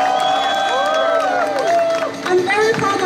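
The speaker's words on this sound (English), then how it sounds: "Can I have a very big applause for our show ladies?" Crowd at a COMPUTEX 2016 trade-show booth applauds and cheers for the show ladies, a dense wash of clapping and whoops layered with overlapping voices and a presenter talking over the noise.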